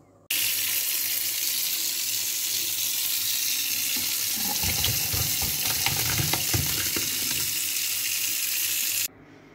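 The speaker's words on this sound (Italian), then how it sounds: "Ora prendo il cucchiaio e devo mescolare." Tortellini are stirred with a spoon in a pot of boiling water. A loud, steady rush of bubbling water runs throughout, and swishing spoon strokes churn through it in the middle. No one speaks.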